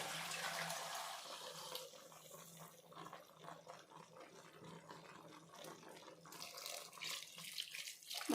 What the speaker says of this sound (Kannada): ಮಸಾಲೆ ಎಲ್ಲ ಫ್ರೈ ಆಗಿರೋದ್ರಿಂದ ಹಾಗೇ ನೀರು ಹಾಕ್ತೀನಿ.